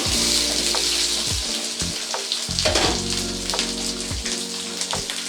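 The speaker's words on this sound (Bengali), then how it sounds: "আলুটাকে 2 থেকে 3 মিনিট ভেজে নেওয়ার পরে" Potatoes fry in hot oil for a Bengali vegetarian green papaya dish, giving a loud, steady sizzle with crackling pops throughout and brief stirring scrapes, no voices.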